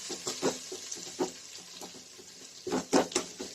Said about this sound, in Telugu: అల్లం పేస్ట్ వేస్తున్నాను.